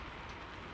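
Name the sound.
rain sound effect filling a truck cab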